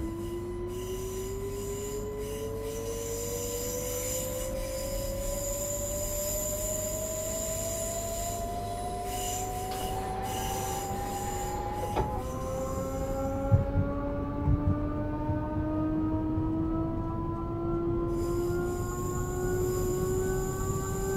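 An ÖBB Cityjet S-Bahn electric train runs between Floridsdorf and Wien Meidling in Vienna. Rising motor whines climb in pitch as it speeds up over a steady rumble, with a few wheel squeals and clunks, heard close from inside.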